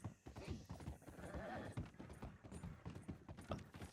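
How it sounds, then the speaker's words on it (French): Horse hooves clip-clop steadily in Red Dead Redemption 2, a brisk rhythmic patter of hoofbeats under quiet in-game background noise. "Oh, attention le cheval."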